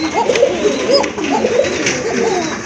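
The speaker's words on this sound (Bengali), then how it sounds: "আরেক জোড়া কবুতর দেখলেন আপনারা, খুবই ভালো মানের কবুতর, কোয়ালিটি ফুল কবুতর, খুব ভালো ডাকে" A pair of pigeons cooing near at hand, with repeated soft, throaty rolling coos following one another in a steady rhythm.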